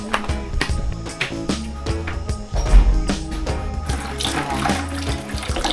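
Water pours steadily from a faucet at a campsite, splashing continuously with some clinks and background noise, no speech.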